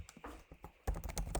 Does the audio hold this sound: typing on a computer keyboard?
yes